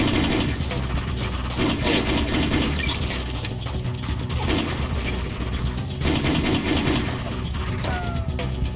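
Gunfire in the video game Just Cause, bursts of shots crackling throughout over a steady rumbling engine bed, with talk mixed in.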